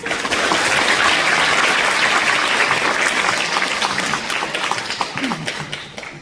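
Sustained audience applause at a memorial night for the Itaewon disaster victims in a hall at Myeongdong Cathedral, dense steady clapping from many hands that stays loud, then thins slightly toward the end.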